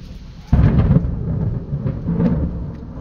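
Thunder from a May storm booms suddenly and rolls into a long, deep rumble, loud and close, heard while a phone is held against a storm door, with no talking.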